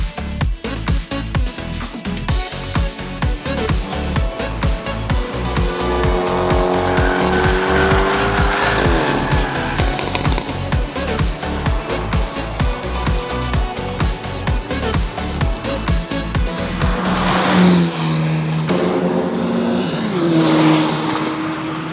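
Hyundai N cars lap a race track at Winton Motor Raceway. A loud engine drones steadily for most of the run, with rising and falling revs and a higher whine and squeal near the end.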